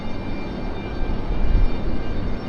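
Southwest airliner touching down on a runway at Raleigh-Durham International Airport, a steady loud jet engine roar with a slight swell of rumble near the middle, no voices.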